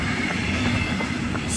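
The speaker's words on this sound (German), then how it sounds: "jetzt kommt der Zug im Hintergrund" A train rumbles past at a distance behind a jogger on a hillside run, a steady continuous rolling noise with faint rhythmic wheel clatter throughout.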